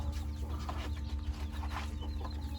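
Silver Sebright chickens cluck in short, scattered bursts over a steady low hum, a few distinct clucks rising above the background.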